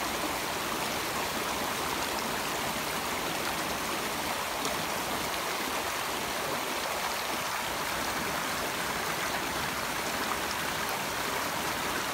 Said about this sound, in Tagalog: Huwag ano dyan sa sapa ha, kasi ano, baka maanod ka. Malakas yung sapa.